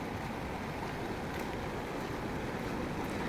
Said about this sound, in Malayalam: നിറഞ്ഞൊഴുകുന്ന തോടാണ്, നന്നായി കുത്തി ഒലിച്ചിറങ്ങുന്നുണ്ട്